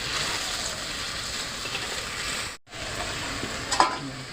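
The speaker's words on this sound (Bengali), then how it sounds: "এবার মাছটা ভালো করে সিদ্ধ করে নেব।" Hilsa fish cooks in a pan for village-style doi ilish with a soft, continuous sizzle, broken by a brief dropout midway and a small clink near the end.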